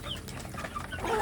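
Kampung chickens cluck faintly in a busy outdoor yard, a few short calls mixed into steady background noise.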